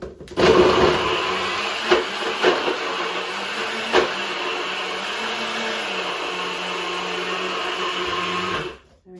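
An electric mixer grinds torn slices of bread into breadcrumbs, a steady loud whirring drone with the motor pitch shifting slightly as it runs, then cutting off abruptly at the end.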